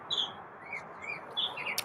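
A pet bird chirps indoors at a donut shop, giving several short high tweets in an irregular rhythm, fairly faint and close, with no talk.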